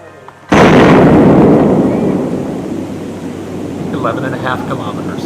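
A recorded nuclear explosion blast hits suddenly after a short quiet, a massive, loud rumbling boom that slowly decays into a long roll of distant thunder-like noise, with faint background sound near the end.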